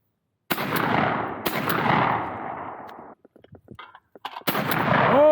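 Two loud gunshots crack close by in quick succession outdoors, each followed by a long rolling echo, then faint clicks and a third sharp shot at the end.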